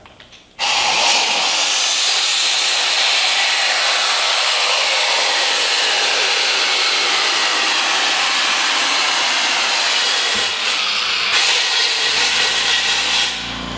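A loud, steady rush of compressed air blowing drill chips out of a hole in aluminium extrusion starts abruptly and blows continuously for many seconds with a brief dip near the end, with no talking.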